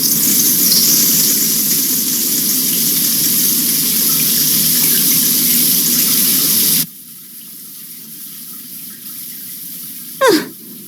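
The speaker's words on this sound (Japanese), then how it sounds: "こんな時にシャワーだなんてのんきなやつ。" A shower runs in an anime scene, a loud steady hiss of spraying water that cuts off abruptly partway through, leaving a quiet room with one brief swooping sound near the end.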